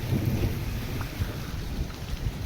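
Steady rain with low, rumbling thunder, a dense continuous wash of noise with a heavy low rumble, close and loud, with no voices.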